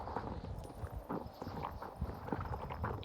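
A horse's hooves clip-clop at a steady walking rhythm in the cold, snowy world of the Star Stable Online game, close and clear over a continuous background hum.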